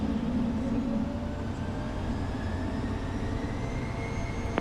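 A Citation business jet taking off on runway 35 at Wilmington, North Carolina: a steady, loud broadband roar with a faint rising whine, no voices.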